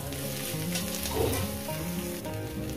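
Fenugreek greens mashed with lailontika fish sizzle steadily in a pan on low gas, a continuous close frying crackle with faint stirring and no talk.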